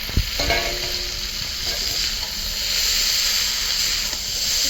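Chow mein tossed with fried prawns, meat and egg in a hot pan: continuous steady sizzle and steamy hiss with a few clattering stirs early on, close and moderately loud.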